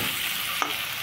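Rohu fish curry with potato and drumstick frying in a pan makes a faint, steady sizzle throughout, broken once by a small utensil clink.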